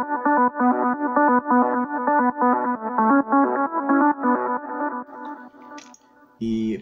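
A synth lead in a Big Room track processed with a Camel Crusher distortion plugin, playing a punchy, rhythmic repeating melody that is loud and gritty. It ends with a brief burst of other sound.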